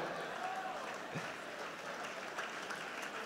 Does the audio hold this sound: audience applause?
yes